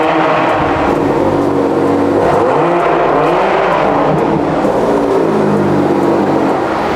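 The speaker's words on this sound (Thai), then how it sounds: "ขออนุญาตเบิ้ลให้คุณผู้ชมฟังกัน" A BMW M340i engine revs hard repeatedly, a loud, continuous throaty exhaust roar rising and falling close by.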